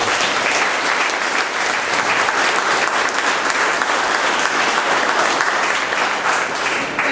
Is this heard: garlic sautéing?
no